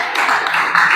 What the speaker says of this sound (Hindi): फिर भी तालियां बजाओ